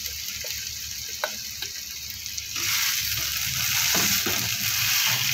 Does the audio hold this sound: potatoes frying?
yes